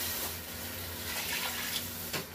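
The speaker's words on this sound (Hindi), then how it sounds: "मैंने इसमें अब ये पानी डाल दिया है।" About two cups of water are poured into a pan of fried garlic and spices for a shrimp curry, giving a steady close rush and splash of liquid that ends with a couple of knocks, with no voices.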